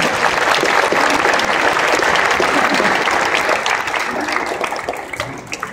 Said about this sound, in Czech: Výborně, že zaslouží potlesk.